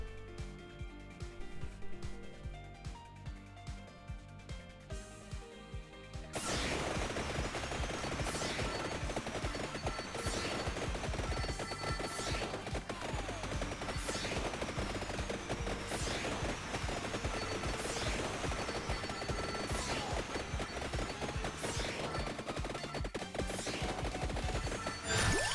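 Rapid gunfire shots in Vampire Survivors fire in a dense, continuous stream of loud repeated bursts against a busy game soundtrack, beginning abruptly after a quieter opening.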